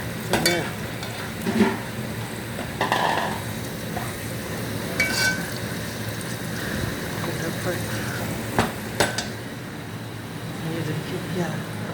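Onions frying and browning in a pan for a home-cooked dish, a steady close sizzle with occasional stirring scrapes and clinks, with someone talking over it.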